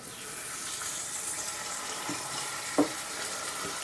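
Ginger garlic paste and chopped tomatoes frying in a pan with a pinch of turmeric, a quiet steady sizzle with a few soft clinks of a spoon against the pan partway through.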